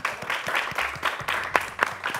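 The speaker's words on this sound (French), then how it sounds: "On peut l'applaudir" An audience applauds a contestant on a French game show, a lively, close crowd clapping continuously with a few sharper individual claps standing out near the end.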